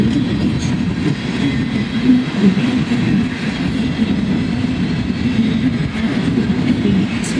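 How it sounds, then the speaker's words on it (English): Freight train rolling past up close with gondola cars, a loud, steady rumble and clatter of wheels that continues throughout with no break. "I don't believe this is a transfer train"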